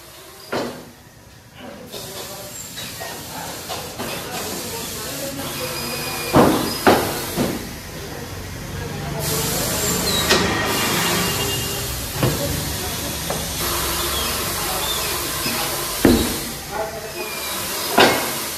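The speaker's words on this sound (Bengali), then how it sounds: "এবার দেখুন কিভাবে টায়ার চেঞ্জার মেশিনের সাহায্যে টায়ারটিকে ডিসমাউন্ট করা হচ্ছে।" A tyre changer machine strips a tubeless tyre off an alloy wheel on a Brezza car, making loud hissing, clanking and scraping bursts with mechanical thuds over a noisy workshop.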